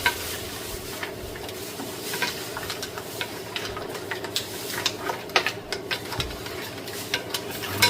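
Mussels being stirred while they sauté in a pan, with steady sizzling and frequent scraping and clinking of a utensil against the pan, heard close and alone.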